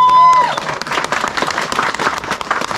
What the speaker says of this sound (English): You don't want to just give her more applause than me.